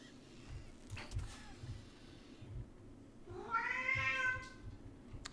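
A cat in ARK: Survival Evolved Scorched Earth gives one clear rising-and-falling meow near the end, heard over low thumping game sounds and faint background noise.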